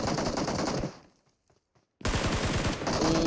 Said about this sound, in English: Angry and Jagger now putting up a beautiful barrage with a few shots.